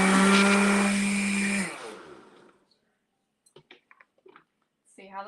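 A kitchen blender whirs loudly as it blends shrimp taco ingredients for about a second and a half, then winds down to a stop, followed by quiet and brief talking.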